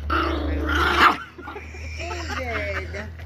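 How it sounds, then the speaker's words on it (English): A dog growls and grumbles close by in a long rumbling vocalization, with people talking over it. "Come on, give me a growl."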